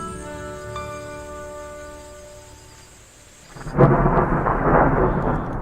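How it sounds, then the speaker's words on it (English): Torrential typhoon rain from Typhoon Morakot in Taiwan's mountains, August 2009, begins as a steady tonal drone that abruptly gives way to a loud, dense roar of downpour with rumbling thunder, sustained and close. "continuous torrential rain caused by Typhoon Morakot"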